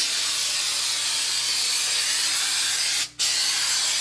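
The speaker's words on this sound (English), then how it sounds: "We're going to spray that on 10 inches from the surface, allow 15 minutes between coats." Aerosol countertop refinishing coating sprays continuously from a can in a steady, close, loud hiss that runs almost the whole time, broken by one brief pause near the end.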